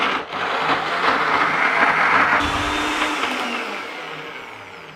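An electric blender whirs loudly and steadily as it purees harissa paste in a kitchen, a continuous motor drone that eases slightly toward the end, with no talking.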